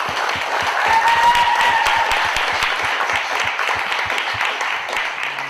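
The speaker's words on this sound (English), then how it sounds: "I want everybody to give him a round of applause." An audience applauds to welcome a musician onto a studio show, a loud, close wash of sustained clapping with a faint tonal hum briefly beneath it.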